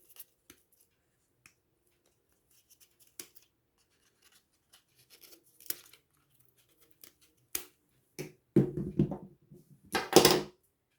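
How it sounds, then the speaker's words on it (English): Foam being cut through with scissors during a gnome craft project: sparse small snips early, then a louder burst of crunchy cutting strokes near the end, close up with no talking. "we've got the foam still in. I'm gonna cut that through."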